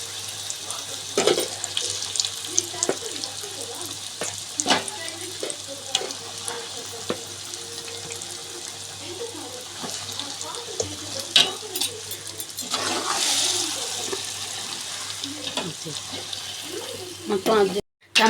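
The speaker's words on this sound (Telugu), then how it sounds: "ఇప్పుడే తాలింపు పెట్టాను కదండి" Tempering spices frying in hot oil for a large batch of tomato pickle, a soft continuous sizzle with scattered clinks and scrapes of a spoon, faint and close in a quiet kitchen.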